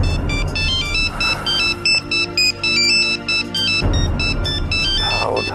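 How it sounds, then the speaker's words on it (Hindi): A mobile phone ringtone in an office scene repeats in short electronic bursts at a steady rhythm, fairly loud over a low background hum. "फोन उठाओ भारती, फोन उठाओ"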